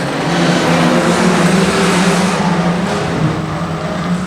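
Street stock race cars roar away at the start of a heat for an Australian title at Redline Raceway, a dense, loud, continuous engine din from a pack of cars with no talk.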